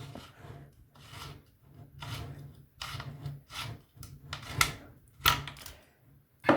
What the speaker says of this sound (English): This is where your batteries are. So you'll unscrew this little plug.